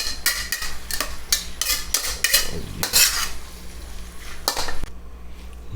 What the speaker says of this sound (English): Straight from the wok to the bowl, man